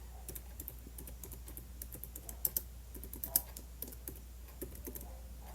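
Rapid typing on a computer keyboard while writing in Notepad on Windows 11, a quiet, steady patter of light key clicks with a few louder taps, no talking.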